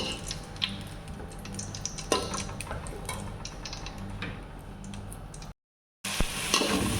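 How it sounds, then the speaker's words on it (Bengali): Steady sizzling of onions frying in a pan with fried potatoes, occasional stirring scrapes, close and continuous, briefly cut by a moment of silence. "এখন আমি এখানে পেঁয়াজ দিয়ে দিব"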